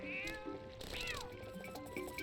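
A cat meows close by, a single drawn-out rising and falling call with a fainter lead-in, over low outdoor background noise.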